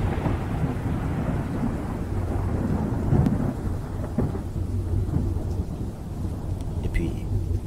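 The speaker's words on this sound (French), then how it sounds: "Il y a des tornades, de la pluie battante et des éclairs partout." A thunderstorm with pouring rain: a constant heavy roar of rainfall, with deep rumbles of thunder and occasional sharper cracks rising out of it.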